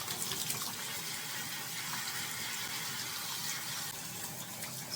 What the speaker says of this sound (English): Just want to show you how clear this water is rinsing out.